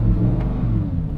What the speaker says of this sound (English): A naturally aspirated V10.